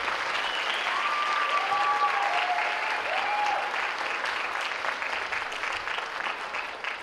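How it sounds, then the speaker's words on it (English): A school district awards audience gives a sustained round of applause for its band programs, dense continuous clapping from a large crowd with a few faint whistles, steady and fairly loud for the whole stretch. "Can we give them another round of applause?"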